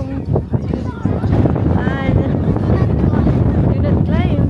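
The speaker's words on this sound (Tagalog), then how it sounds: "Ang lakas ng hangin." Strong wind buffets the microphone with a steady loud roar on a Hong Kong outing near the Peak Tram, and people talk over it throughout.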